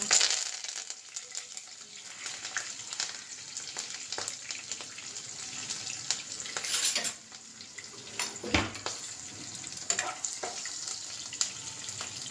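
Green chillies and curry leaves sizzle in hot oil with a pinch of asafoetida, making a steady close crackling hiss with scattered spoon and pan clinks and a brief louder spatter burst.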